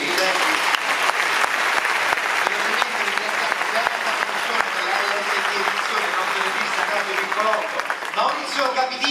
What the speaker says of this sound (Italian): quindi un applauso qui